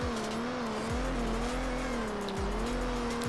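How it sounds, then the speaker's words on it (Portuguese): A Ford Mustang drifts in a Brazilian car game, its tires squealing in a long, wavering whine over a loud, steady engine drone that rises and dips as the car slides. "Esse Mustang ficou muito bom pra drift, velho"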